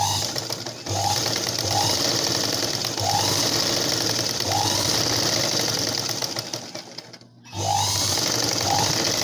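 A sewing machine stitching the neckline edge of a blouse runs in a steady, fast mechanical whir with periodic ticks, stopping briefly before restarting, close and loud without speech.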